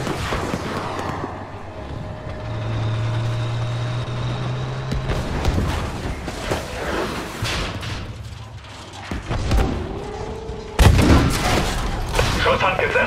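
Bursts of gunfire and heavy thuds crackle through a noisy Battlefield 5 game scene, with several shot clusters and a loud blast near the end.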